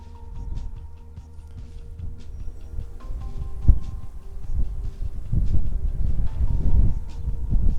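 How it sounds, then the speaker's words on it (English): Strong headwind gusting outdoors around small camera drones being flown in high wind, a steady low rumble of buffeting that swells and surges louder toward the end, with no talking. "It's a very strong headwind"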